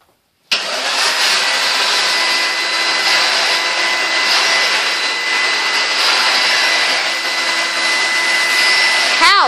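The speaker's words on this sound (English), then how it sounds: "But here, Henry is his Hoover." A Henry vacuum cleaner (Hoover) switches on abruptly and runs loud and steady, a sustained whining roar that carries on for about nine seconds and dips briefly at the very end.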